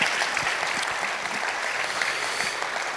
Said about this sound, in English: Another round of applause for Jainaba, please